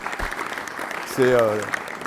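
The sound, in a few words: audience applause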